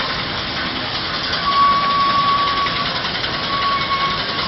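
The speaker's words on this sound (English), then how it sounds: "Got a little roller coming past here." A steady low engine rumble from a passing Fowler steam roller at the Great Dorset Steam Fair, with a faint high whistle-like tone above it.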